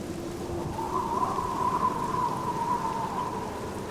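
Steady rain falls in the 2003 video game The Black Mirror, an even soft hiss outside a noble family's tomb, with a faint sustained tone running through it and no voices.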